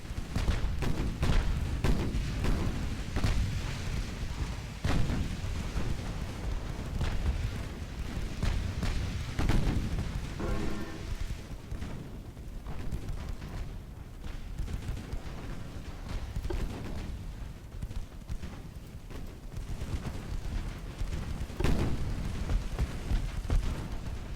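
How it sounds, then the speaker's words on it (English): Heavy cruiser gunfire in the naval battle game Ultimate Admiral: Dreadnoughts, with French and German battleships clashing: repeated deep booming shots roll in at irregular intervals over a constant rumbling battle din, with no talking. "Looks like some cruiser fire coming in on Bretagne from over that direction."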